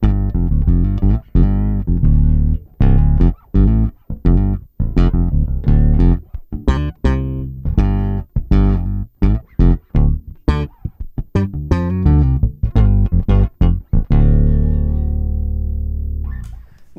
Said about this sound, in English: So my second OC2 is set to a blend of wet and dry, and it sounds like this.